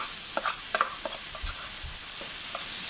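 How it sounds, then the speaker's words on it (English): Raw steak dropped into a hot pan for a meat and potato pie, giving a steady broadband sizzle with a few soft clinks and low thumps as the meat settles. "So I'm going to add this steak."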